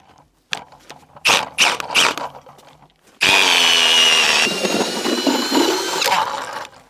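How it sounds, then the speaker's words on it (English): An ice auger bores down through lake ice while ice fishing for walleye in the rain, starting with a few short scraping bursts, then a loud, steady grinding drone with a high whine that runs to the end. "All right, I'm gonna drill right here."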